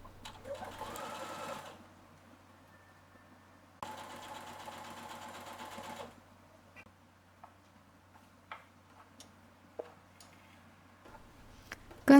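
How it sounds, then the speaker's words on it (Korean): A sewing machine runs in two close bursts of rapid stitching along a fabric edge for a summer dress, with quiet handling clicks and small taps between runs. "원단 가장자리에서 2mm 안쪽으로 들어와서 지금 박고 있어요."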